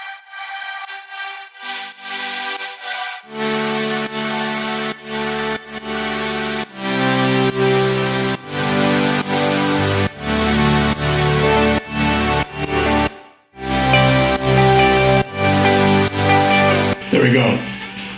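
A future bass drop: wide chopped synth chords pulsing in rhythmic stabs over deep bass, loud and dense, with brief gaps where layers cut out and a sharp dropout near the end.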